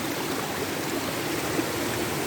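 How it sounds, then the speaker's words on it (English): A river on the Le saut des Trois Cornes trail in Guadeloupe rushes over stones, giving a constant, even hiss of flowing water, close and moderately loud. "So you have to do a bit of a crossing over the river here."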